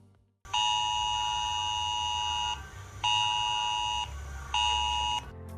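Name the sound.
civil protection emergency alert tone on a mobile phone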